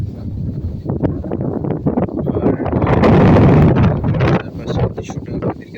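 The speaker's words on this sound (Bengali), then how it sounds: "বাতাসে হেলে দুলে খেলছে ধান গাছগুলো দেখতে পারছেন প্রচণ্ড বাতাস বইছে" Strong wind gusts roar steadily over village rice fields on a riverside char in Manikganj during the monsoon month, a broad rushing buffet swelling louder midway, with no talking.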